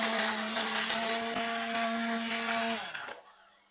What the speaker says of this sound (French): j'utilise un mixeur plongeant et on va mixer cette préparation